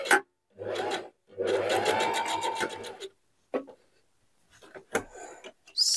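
Domestic sewing machine stitching a seam on a fabric hat, in two bursts, a short one and then a longer run of about two seconds, followed by a few faint handling clicks.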